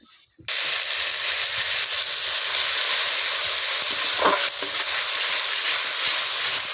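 Onion, tomato and cumin paste dropped into hot oil with dried chillies, a sudden loud burst of sizzling that then carries on steadily, with an occasional spatula stir.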